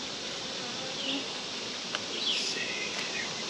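Honey bees buzz around open hives during mite treatment and feeding, a steady close drone of many wings with a few brief individual passes rising above it, no talk.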